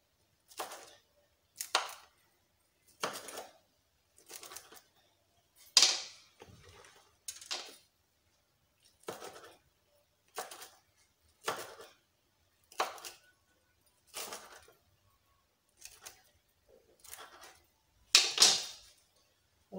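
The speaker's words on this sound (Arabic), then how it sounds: "انا عندي الموس ديال البيتزا باش نقطع، ولكن انا راه ما تيقنعنيش الموس" A knife slicing through a homemade pizza, a series of crisp, separate cutting strokes at an uneven pace with a couple of louder, harsher cuts, close up with silence between strokes.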